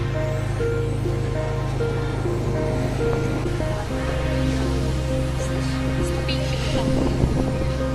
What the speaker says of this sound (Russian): вон куда волны заходят